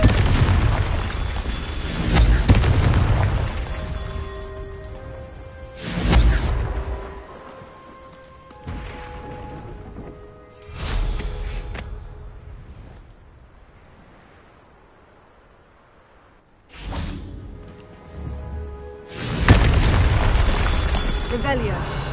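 Deep booming explosions from a Confringo blasting spell in a game, several heavy blasts with rumbling tails spaced across the stretch, loud and close, with a voice speaking between them.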